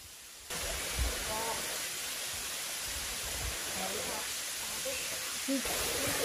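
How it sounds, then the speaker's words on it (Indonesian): The 30 to 40 meter Tlogo Muncar waterfall in Merapi National Park, Yogyakarta, gives a steady, loud broadband rush of falling water, with a voice faintly audible underneath. "Air terjun Telaga Muncar sendiri memiliki ketinggian antara 30 sampai 40 meter dengan air yang jernih dan segar."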